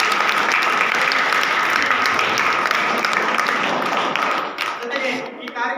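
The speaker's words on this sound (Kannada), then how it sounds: "ತಮ್ಮೆಲ್ಲರ ಜೋರಾದ ಚಪ್ಪಾಳೆ" Loud, sustained audience applause at a school programme, many hands clapping in a thick continuous roar that thins out toward the end as voices come through.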